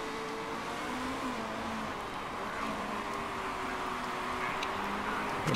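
Race car engine revving in a racing video game, a sustained mid-level engine whine with shifting pitch, moderately loud and continuous without any voices.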